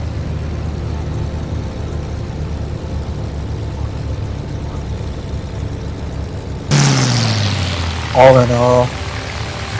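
Propeller engine of a Messerschmitt Bf 108 in Microsoft Flight Simulator on Xbox, a steady low droning hum that shifts in tone partway through, with someone briefly talking over it.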